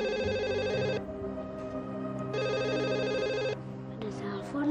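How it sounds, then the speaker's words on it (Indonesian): Telephone bell ringing indoors in two long bursts of bright, rapid trilling with a pause between, heard up close over a low background hum. "Ada telepon, Mi."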